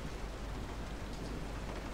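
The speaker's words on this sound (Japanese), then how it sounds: "雨になってる" Steady rain pours outside in Resident Evil 7, a dense, continuous hiss of falling water with a low rumbling undertone, heard alone and unbroken.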